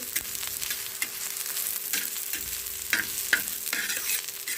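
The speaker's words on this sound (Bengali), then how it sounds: "আমি নিম বেগুনগুলো ভাজা করছি।" Neem leaves and eggplant frying in a pan, with a steady sizzle and a few sharp clinks as the pieces are stirred. Nobody talks over the close, continuous crackle.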